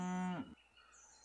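A single cow moo from the Super Auto Pets video game, a loud, close, drawn-out low bellow that drops and cuts off after under half a second, followed by faint game ambience.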